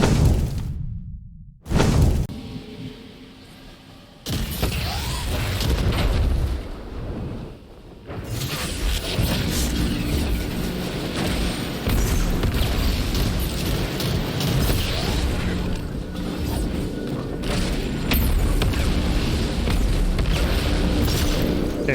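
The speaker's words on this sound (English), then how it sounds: "Okay, 2 grenades" Grenade explosions in a video game boss fight: a sharp burst near the start, then sustained loud rumbling blasts and mechanical whooshes with no talk.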